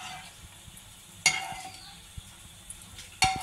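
Homemade ghee heating in a kadai on a gas stove, a soft continuous sizzle with a few sharp metallic clinks of a large spoon against the pan.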